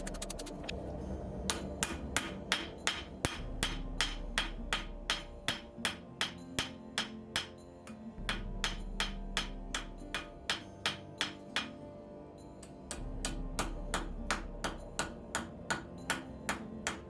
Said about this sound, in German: dann gehe ich her und schmiede die Schneide raus